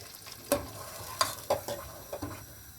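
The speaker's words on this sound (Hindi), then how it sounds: "इसमें मैंने थोड़ा सा तेल डाला है और इसमें मैं वो पूरा कैन मैंने प्योरी बना लिया है" Tomato puree from a can poured into hot oil in a cooking pan and stirred, with soft scraping stir strokes and short spoon knocks over a low steady sizzle, close and moderately quiet with no talking.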